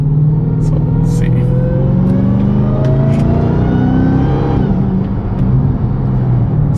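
A Dodge Hellcat V8 on its stock intake revs hard and climbs in pitch, a loud close rumbling roar with a rising whine, and a person talks over it.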